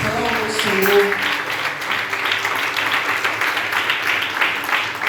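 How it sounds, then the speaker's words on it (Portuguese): A church congregation applauds in a continuous wash of clapping, with a brief voice and tonal sound near the start, lasting several seconds at a fairly even level. "Aplauda a Jesus. Aplauda o Senhor."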